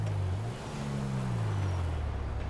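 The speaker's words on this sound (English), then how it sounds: "We're leaving this car, taking the truck." A truck drives in Grand Theft Auto 5 Online, its engine a steady low drone that rises and falls in pitch as it shifts through gears, with no talk.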